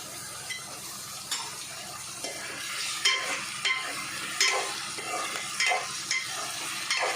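Palak paneer ingredients stir-fry in a pan with a constant close sizzle, while a utensil scrapes and knocks against the pan in repeated strokes throughout; no voices.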